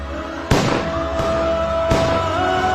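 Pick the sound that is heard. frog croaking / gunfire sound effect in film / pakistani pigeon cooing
gunfire sound effect in film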